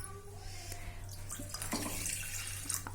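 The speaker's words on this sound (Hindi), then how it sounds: "आधे से थोड़ा सा ज़्यादा पानी लिया है" Water being poured into a pan on a gas stove to make jaggery tea, a steady splashing trickle that continues throughout with kitchen background noise.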